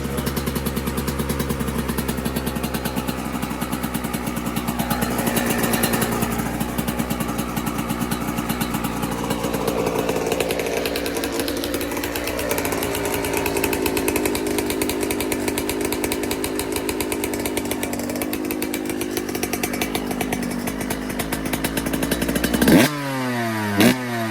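A two-stroke dirt bike engine, 125 or 250 class, runs steadily with a buzzing, rattly tone and loud revving throughout, then cuts off abruptly near the end.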